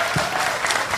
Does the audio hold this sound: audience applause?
yes